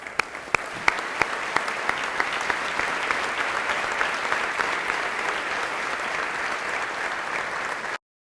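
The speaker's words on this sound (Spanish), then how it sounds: "Y merecen también un aplauso" Audience applause for the Armed Forces at a government announcement of aid for Coahuila, Nuevo León and Tamaulipas: a few sharp early claps swell into steady, dense clapping that runs about eight seconds, then cuts off.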